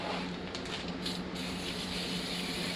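A spray can hisses continuously in a short burst while cleaning rear drum brakes on an X4, dense and close, with a slight pulse near the start.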